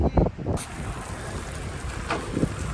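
Steady rain during a bike ride around Lake Geneva, a continuous broadband hiss with wind noise, opening with a brief bump of handling or voice.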